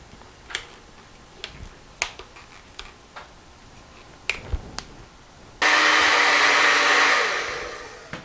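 After a few light taps and clicks, a hair dryer switches on close by to dry paint on artwork, a loud steady blowing roar that runs for several seconds before easing slightly.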